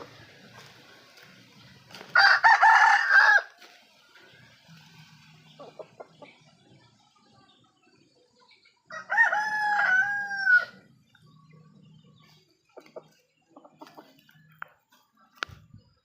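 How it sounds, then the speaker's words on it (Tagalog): A rooster crows loudly twice, several seconds apart, with soft clucking and scattered small farmyard noises in the quiet gaps between. "Tapos may mga alagang manok din dito"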